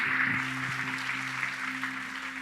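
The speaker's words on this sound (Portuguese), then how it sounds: "Aplauda o Senhor bem forte" Church congregation applauding, a steady, fairly faint wash of clapping lasting a couple of seconds over a low sustained musical drone.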